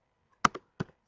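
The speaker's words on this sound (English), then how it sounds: "We type in SQL Plus" Short keystrokes on a computer keyboard entering an SQL Plus login command for an Oracle 11g database: four quick, close clicks in two pairs in a quiet room.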